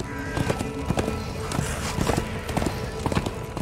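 Horse hooves gallop at a steady rhythm in the action video game Darksiders II, a quick repeating clip-clop under game ambience and effects.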